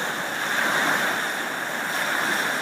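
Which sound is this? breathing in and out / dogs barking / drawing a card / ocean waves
ocean waves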